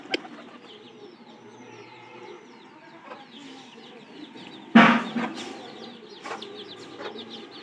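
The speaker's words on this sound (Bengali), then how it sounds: "মুরগি এসে পড়ছে" Hens arrive clucking near a pigeon loft, giving faint scattered clucks and calls with one louder flutter-like burst partway through. Other birds can be heard in the background.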